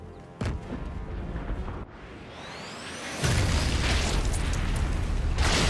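A grenade goes off in Sniper Elite 5: a sharp early pop, then a loud booming blast that settles into a sustained roaring rumble with debris noise.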